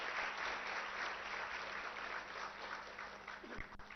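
An audience claps in a continuous, fairly distant wash of applause at an anniversary celebration in a hotel hall, easing slightly toward the end.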